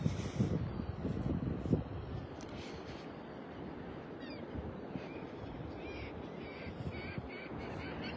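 Seabirds squawking out over the water at Clam Pass beach in North Naples, Florida, on an early morning, with scattered harsh calls, some crow-like caws, carried over steady surf and wind noise, fairly distant.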